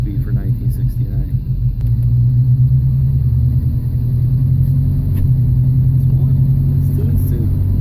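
A 1969 Pontiac Firebird with a blown engine drives and shifts through its three-speed transmission, a loud low rumble rising and settling with each gear change, with someone talking over it.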